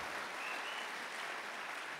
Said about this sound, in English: applaud for Trey Gowdy